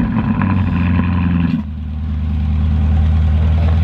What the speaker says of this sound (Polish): Sprawdźmy, jak brzmi Lamborghini Urus Mansory Venatus.